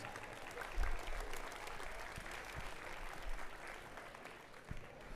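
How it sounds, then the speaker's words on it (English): Applause from a school championship audience, a steady patter of clapping with a few louder claps standing out, heard from some distance and fairly faint. "Let's give him a round of applause."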